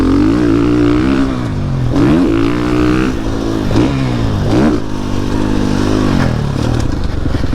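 A 2021 GasGas MC450F motorcycle engine revs up and down close by, the pitch rising and falling in repeated swells, loud and continuous with no talking.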